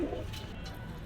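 A pair of teddy pigeons at a pigeon shop in Gollamari, Khulna, gives a brief soft coo, close by, over faint background noise.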